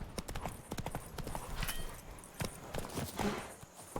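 Roach, a horse in The Witcher 3, trots with quick, evenly spaced hoof clops that are close and crisp. Faint game ambience sits underneath.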